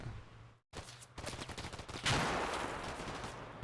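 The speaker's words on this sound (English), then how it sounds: "My infantry is already firing at it" Infantry small-arms fire in Combat Mission: Black Sea, a rapid crackle of rifle and machine-gun shots after a brief silence, building into a louder, denser burst of gunfire near the end.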